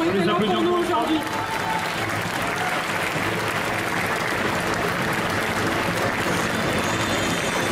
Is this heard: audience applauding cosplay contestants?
yes